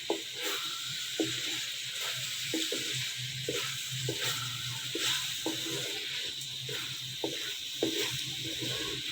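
Potatoes and capsicum frying together in a pan for an aloo shimla mirch sabzi, with a steady sizzle under repeated scraping stir strokes about once a second, close and moderately loud, with no talking.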